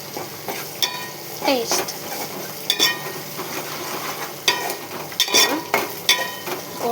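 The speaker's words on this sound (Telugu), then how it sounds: "ఇది పచ్చివాసన పోయేదాకా వేయించుకోవాలి." Masala stir-fried in a pan until the raw smell cooks off, a continuous sizzle with regular scraping strokes of a ladle against metal, close up, and a brief spoken word.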